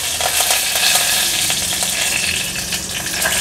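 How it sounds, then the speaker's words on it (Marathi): Curry leaves dropped into hot oil for a tempering: a loud, dense, continuous crackling sizzle, close up and steady throughout, with no voices. "आता फोडणीला आपण ही कढीपत्त्याची पानं घालूया,"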